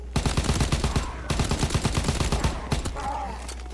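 Rapid bursts of automatic gunfire from a World War II zombies video game, loud and continuous with a short break, sharp repeated shots filling the mix.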